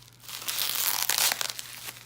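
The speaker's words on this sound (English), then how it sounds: "As you can see, it's full of bubble wrap." Bubble wrap packaging crinkling and rustling as a package is unboxed, close and soft, with a denser burst of crackling near the end.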